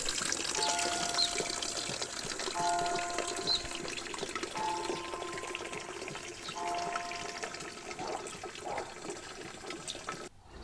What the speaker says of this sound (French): Direction la gouttière et voilà de l'eau gratuite qui nous tombe du ciel.